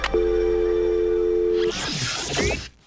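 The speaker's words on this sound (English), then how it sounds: "Phone call terminated." A steady electronic phone-disconnect tone from the Terror T.R.A.X. PC game holds for about a second and a half, then cuts off, followed by brief softer clattering sounds.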